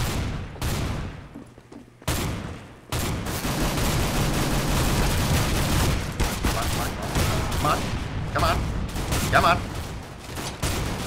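Pistols fire in the video game CS:GO, shots and bursts cracking densely alongside game noise, while a voice talks over part of it.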